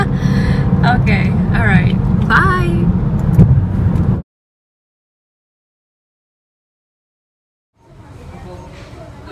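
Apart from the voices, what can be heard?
car driving, heard from inside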